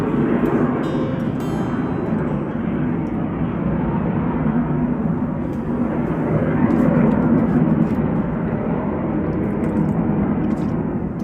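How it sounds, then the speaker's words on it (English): Fighter jets flying over Key West make a steady, broad roar that fills the whole span, loud and sustained with a slight swell near the end. "We got a jet."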